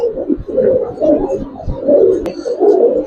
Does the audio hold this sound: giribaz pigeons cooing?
yes